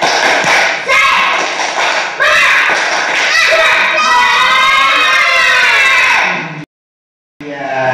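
Schoolchildren in a classroom perform the rhythmic 'tepuk semangat' clapping cheer, loud chanting voices mixed with claps, ending in a brief silence before more voices.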